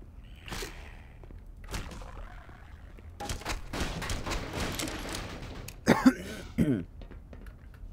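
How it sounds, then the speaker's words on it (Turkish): A person coughs in a few sharp, close bursts near the end, over a stretch of busy game sound effects from Black Mesa: Definitive Edition. "Ay bir öksürük tuttu beni bu videoda ya."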